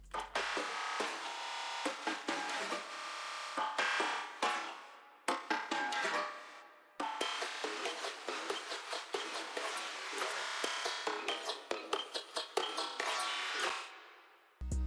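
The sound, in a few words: percussion loop in beat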